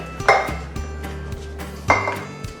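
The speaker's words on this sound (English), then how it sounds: "Now we're gonna put our veggies in here." Vegetables tipped into a crock pot, a few hard clunks and clatters of pieces and a utensil hitting the pot, close and loud with quiet gaps between, no speech.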